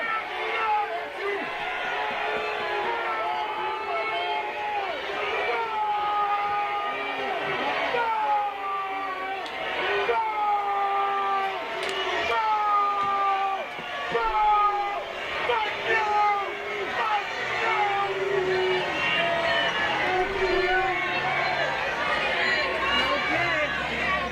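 A crowd at a political event involving Paul Ryan, a steady dense babble of many voices with shouts and rising calls over the hubbub throughout.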